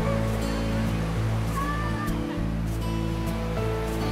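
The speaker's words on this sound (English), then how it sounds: "It's the only publicly owned waterfall in the Lower Peninsula, and it's the only universally accessible waterfall in the United States." Ocqueoc Falls in Michigan's Lower Peninsula, a steady, broad rush of falling water heard close and loud, with a voice faintly talking over it.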